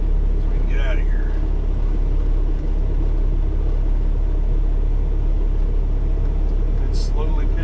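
Low, steady diesel rumble of a semi truck idling and creeping as it maneuvers with its trailer, with a brief squeak or chirp near the start and end.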